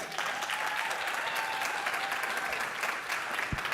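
An audience at a London founders' event claps steadily, a dense, sustained patter of many hands filling the room from start to finish.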